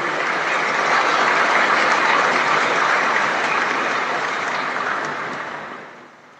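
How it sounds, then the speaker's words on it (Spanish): Applause at a ceremony for officers receiving certification, a dense, even roar of many hands clapping that holds steady and then tapers off at the end. "Un fuerte aplauso para quienes reciben"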